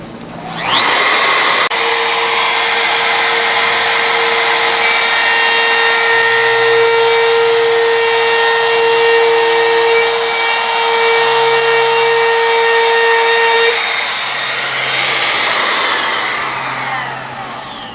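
A Makita RT0701C 1 1/4 HP compact router spins up and runs at a steady high-pitched whine for about twelve seconds, loud and close, then winds down, alone without talk.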